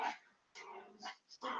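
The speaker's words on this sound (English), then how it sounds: "And these dogs are going ballistic." Several dogs barking excitedly in short, sharp bursts at close range, with a yip or whimper between barks, heard alone.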